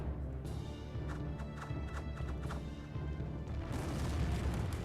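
Horse archers' mounts in the Empire Earth strategy game, heard as repeated hoof clip-clops and whinnies among battle booms, at a fairly quiet level.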